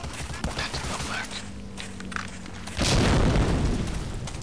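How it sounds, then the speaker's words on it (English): Several sharp shots and clicks from Medal of Honor: Allied Assault, Battle of the Bocage mission, give way to a grenade explosion: a heavy, loud boom that bursts out and rumbles on as it slowly fades. "I'm intent on throwing a nade at you!"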